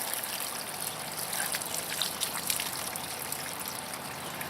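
Water from a Coleman solar shower, a leaking camping shower bag, runs and trickles steadily onto the ground outdoors, a continuous close splattering with no talking.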